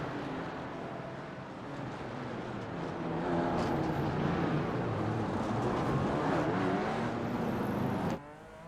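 Race cars roar through the Long Beach hairpin in a racing video game, a steady engine drone that swells in the middle and then cuts off near the end, with no voices.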